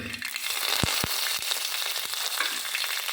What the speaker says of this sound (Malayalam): അപ്പോൾ ഇത് കടുക് പൊട്ടിക്കട്ടെ കേട്ടോ